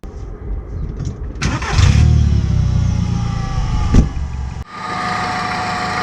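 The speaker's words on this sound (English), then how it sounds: "I'm going to start the car and look for that noise in the engine bay." An Audi A2 1.4 engine cranks briefly and catches, roaring up loudly before settling into a steady idle nearby, with a sharp click partway through.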